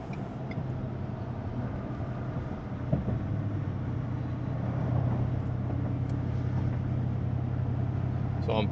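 Steady low engine drone from a 2023 Ford F-150 5.0 V8 with a Flowmaster Signature Series exhaust, cruising uphill under load at low revs, a continuous, even rumble with a faint rise in intensity partway through.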